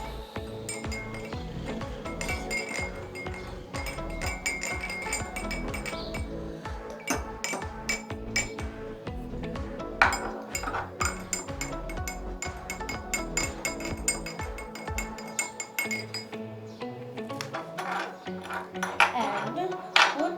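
Drinking glasses, some filled with red, yellow and other colored water, clink repeatedly as they are set down and arranged on a surface, with sharp, bright taps in an irregular rhythm and a voice speaking occasionally.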